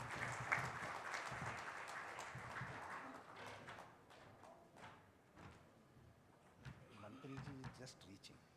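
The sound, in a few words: audience applause welcoming the speaker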